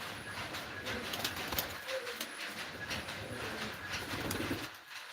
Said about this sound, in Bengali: দেখ আমার কবুতরও খুব ভালো আছে সুস্থ আছে